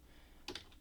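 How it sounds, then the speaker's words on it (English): A single key press on a computer keyboard while modelling in FreeCAD 0.20: a quick pair of faint, close clicks over quiet room tone. "I'll press the equals key on the keyboard here."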